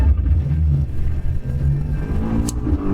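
A Tesla with a simulated engine sound and transmission accelerates, giving a steady, loud low rumble that rises like a revving engine from inside the car.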